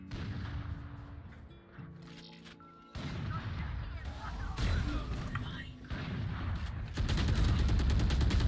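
Gunfire in Valorant, a few sharp shots and bursts over layered in-game effects and ambient noise, growing louder toward the end.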